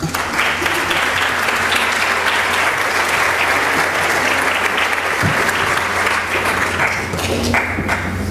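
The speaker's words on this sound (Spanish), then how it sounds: "Un aplauso para Shari." A crowd at a cancer awareness contest gives a dense, sustained burst of applause for an award winner, steady and loud from start to finish.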